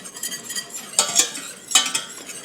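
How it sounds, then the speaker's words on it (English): Flour being stirred into heated butter in a pan for a white sauce, with soft utensil scrapes against cookware and two louder clinking strokes, close and fairly quiet. "we've got our butter heated up, and we're going to gradually add flour."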